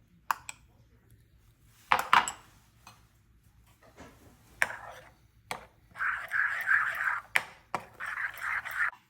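Spinach paste stirred into dosa batter in a bowl for palak dosa, with a utensil scraping and clinking against the bowl in repeated bursts of close mixing, plus a few sharp taps, and no talking.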